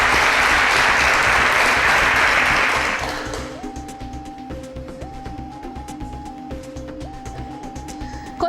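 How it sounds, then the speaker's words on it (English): An audience claps loudly for contestants at a televised science quiz competition, a dense burst that fades away after about three seconds into a quieter background with steady electronic tones. "A round of applause for both of them."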